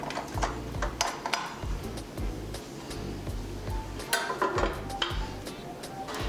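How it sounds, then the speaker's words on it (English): A stand mixer whisk beating a stick of room-temperature butter for frosting, a fairly quiet rhythmic whirring with repeated light metallic ticks and clinks against the bowl. "And then we're just going to whisk it until it's really smooth."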